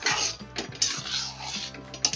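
Spoon stirring kasuri methi into egg tadka in a pan, a few close scraping and clinking strokes in an irregular rhythm, fairly quiet, no talking.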